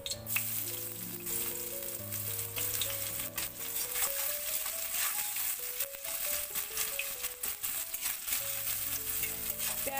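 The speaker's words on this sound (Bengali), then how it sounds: "পেঁয়াজগুলোকে হালকা লাল করে ভেজে নেব" Chopped onions fry in a pan for a Bengali silver carp fish dish, a steady sizzle running through the whole stretch beneath continuous background music.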